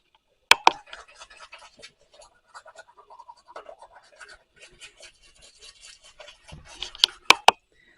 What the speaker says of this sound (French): je brosse mes dents